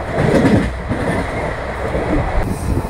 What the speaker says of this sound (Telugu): మన ట్రైన్ వచ్చేసండి బ్యూటిఫుల్ కర్వ్ అయితే తిరుగుతుందండి